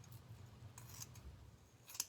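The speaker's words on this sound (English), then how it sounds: "So what I'm gonna do is I cut a piece about this long." A few faint, quick snips of scissors cutting craft material for a Halloween project, heard alone in a quiet room, with a sharper cut near the end.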